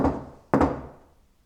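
Knuckles knock on a surface inside Llanrumney Hall, an old Cardiff manor. Two firm, hollow thunks half a second apart ring out alone with a short echo.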